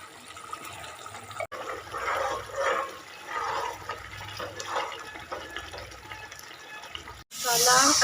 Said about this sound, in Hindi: उसमें अब मम्मी ने पानी डाल दिया है